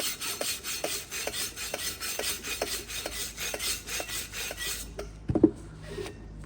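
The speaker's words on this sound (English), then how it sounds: "And to do a mag particle, just a wire brush it." A wire brush scrubs a steel weld before magnetic particle inspection, making rhythmic, close rasping strokes about twice a second that stop near the end, followed by a few light metallic knocks.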